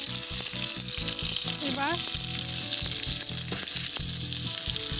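Tomato dropped into hot oil already tempered with cumin seeds sizzles loudly and continuously in the pan, under background music and a brief spoken voice.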